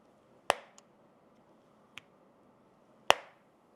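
Two firm snapping clicks with a fainter tick between them, sharp and close, in an otherwise quiet room: Samsung Galaxy Z foldable phone hinges snapping shut.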